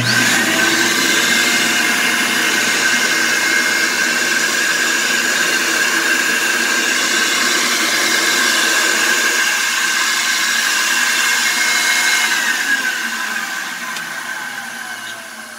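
A Filter Queen Vacu-Queen central vacuum with a Plastiflex hose drones loudly and steadily as it sucks up shredded paper, a constant whooshing roar that eases off slightly near the end, with no voices.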